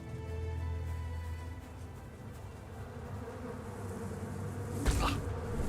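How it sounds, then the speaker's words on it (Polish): Bees buzz in the fantasy video game Tainted Grail, a steady insect drone with a low hum beneath it, and a brief louder swell near the end. "a to tu są pszczoły jakieś"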